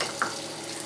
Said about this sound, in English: just heat up your frying pan and add in all the ingredients